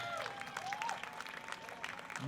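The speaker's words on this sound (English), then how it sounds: "Ladies and gentlemen, let's give them a big round of applause." Crowd applause at the Los Alamitos street fair in 2021, steady outdoor clapping from many hands lasting a couple of seconds, with a few whistles or cheers riding over it.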